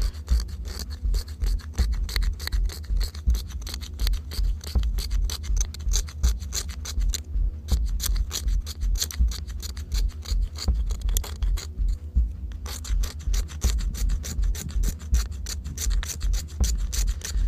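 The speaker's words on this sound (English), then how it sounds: "Just kind of go ahead and start scraping this stuff off." A fire striker scrapes fatwood into fine shavings, producing a close, rapid, rhythmic rasping that runs continuously with two brief pauses.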